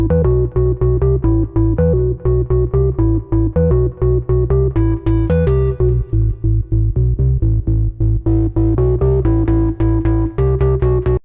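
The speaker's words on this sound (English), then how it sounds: "Bass Culture is an organ bass." An organ-style synthesizer bass preset for modern trance pulses in a rapid, rhythmic pattern of short repeated notes, with pitch shifts along the way. It is loud and alone.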